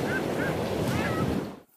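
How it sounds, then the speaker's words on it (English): Ocean waves and surf with seabirds, played back as an audio recording, a steady broadband wash throughout with brief high bird-like calls, ending abruptly in silence. "The sound of the birds in the ocean."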